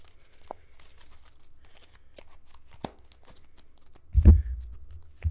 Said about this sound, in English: Then you like I'm just going to random shuffle here.